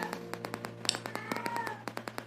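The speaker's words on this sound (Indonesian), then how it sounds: "ada backsound kucing yang lagi pengen kawin" A cat in heat yowls and meows in the background through rhythmic tapping and a steady low hum, its wavering cries rising and falling faintly at a distance.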